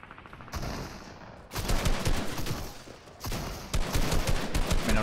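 Video game gunfire in a Fortnite match, with rapid bursts of shots in several loud volleys separated by brief pauses, close and dense.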